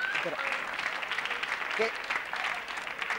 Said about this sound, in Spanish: para aplaudir así no se maten